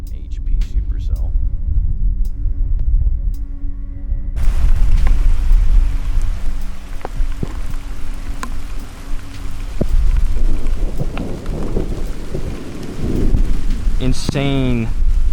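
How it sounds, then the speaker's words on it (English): Heavy rain pours from a high-precipitation supercell thunderstorm near Catawba, Ohio. The downpour roars loud and steady throughout, with deep rumbles of thunder rolling under it and a sharp crackling burst near the end. "Insane high precipitation supercell near Catawba, Ohio."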